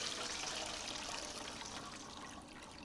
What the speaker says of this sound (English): So pour that out and wash it again.